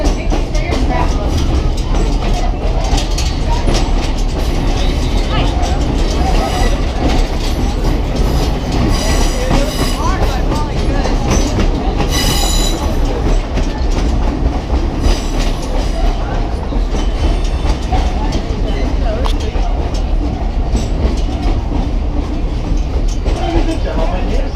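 Tourist train at Stone Mountain Park in Georgia rolls continuously with loud rumbling and clattering wheels and occasional squeals, while a voice speaks over a loudspeaker throughout.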